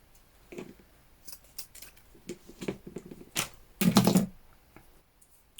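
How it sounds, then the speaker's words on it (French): Scissors snip fabric and lace while vintage fabric flowers are made, a series of short, crisp cuts with a louder, longer cut near the end, close to the microphone and alone without talk. "là, je vais couper"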